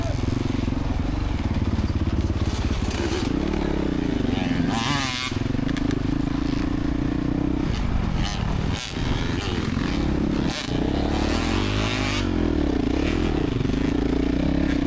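Motocross dirt bike engine racing at NCHSA Round 3 at Flat Rock, a loud close rasping drone that rises and falls with repeated revs and shifts, punctuated by brief dips and clattering scrapes throughout.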